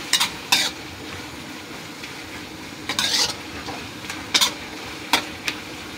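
Pancit canton noodles with plenty of toppings are stir-fried in a pan, a soft steady sizzle broken by several sharp scraping clacks of a utensil against the pan, with no talking.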